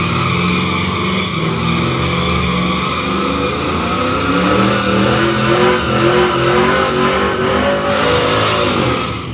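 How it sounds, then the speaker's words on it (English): A drag racing car performs a burnout at a dragstrip, its engine roaring steadily and loudly for the whole stretch with rising revs, close and continuous, no talk over it. "Nice burnout."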